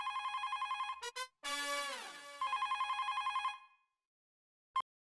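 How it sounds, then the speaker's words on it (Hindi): A telephone rings loudly at home with several repeated bell bursts, a short pause, then one final brief ring, with no talking over it. "बेटा जरा फोन उठाना।"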